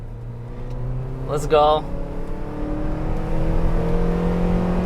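Four-cylinder engine of a 2011 Honda Accord accelerating up an on-ramp, a steady droning hum rising gradually in pitch, heard from inside the cabin with a brief spoken exclamation over it.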